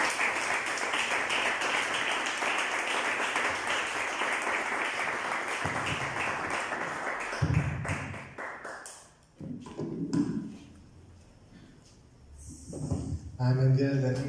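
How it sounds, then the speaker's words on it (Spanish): A congregation at an evening church service claps in welcome, dense applause for about seven seconds that thins into scattered claps and thumps, followed by quieter talk and a brief renewed burst. "Vamos a recibirlo con un aplauso de amigos este día."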